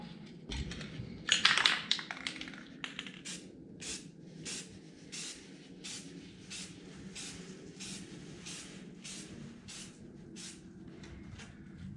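Gloss leather brown spray paint goes onto a car surface in short repeated bursts, a dozen or so crisp hissing sprays at a steady rhythm, close and fairly quiet over a low background hum.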